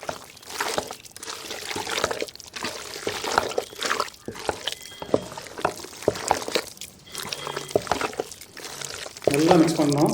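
Chicken pieces are squished and mixed by hand in a wet egg marinade, giving irregular sticky squelches and soft liquid splats, with a person talking intermittently over the mixing.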